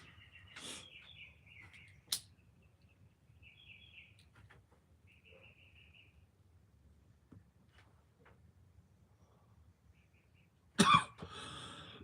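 Two short coughs ring out, one early and one louder burst near the end, set against a quiet outdoor background with faint bird chirps and scattered small noises.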